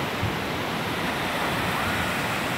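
Ocean waves at Krakal Beach in Gunung Kidul, Indonesia, make a continuous broad roar of surf that stays steady throughout, with no voices.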